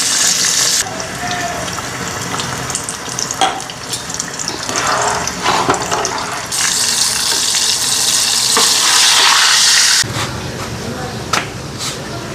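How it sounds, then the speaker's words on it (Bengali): Ghee melting and sizzling in a pan in a home kitchen, a dense, steady frying hiss that runs throughout with occasional scraping and clatter. "এখানে দেখো ঘিটা গলতে দিচ্ছি"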